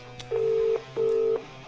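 Two steady push-button tones from a telephone keypad as a number is dialed to call Jamie, each held just under half a second with a short gap between, clear and close with no talking.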